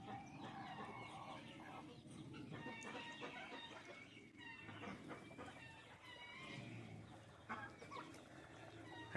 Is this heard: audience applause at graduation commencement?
no